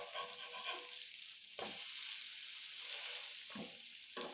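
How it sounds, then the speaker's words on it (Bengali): Capsicum fries in a pan with a soft, steady sizzle, broken by a few short bursts of stirring or pressing against the pan, fairly quiet and close. "চেপে চেপে এরমভাবে সুন্দর করে লাল লাল করে ভেজে তুলে নেব।"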